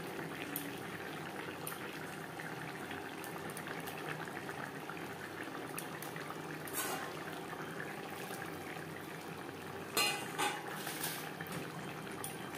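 Fish curry with vegetables simmers and bubbles steadily in a pot after fried fish goes in, a continuous soft boiling texture with a couple of brief louder splashes near the end.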